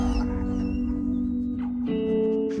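A dog from a Marine unit whimpers and yips in short, tonal bursts alongside a steady hum, fairly close and clear, with no one talking.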